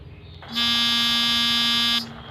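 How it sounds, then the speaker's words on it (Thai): A missile bomb sound effect from a gun shooting app, heard as a loud, harsh electronic buzz that starts abruptly, holds steady for about a second and a half, then cuts off. "ตัวต่อไป บอมครับขีปนาวุธ"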